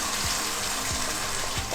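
Ground paste mixed with water is poured into a pan for butter chicken, a steady wet gush and splash, loud and close, with faint soft thumps underneath.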